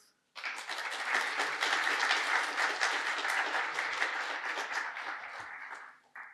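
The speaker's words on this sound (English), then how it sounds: "Please welcome them with an applause." A conference audience breaks into applause welcoming two speakers, starting abruptly, holding steady and full for several seconds, then tapering off and stopping.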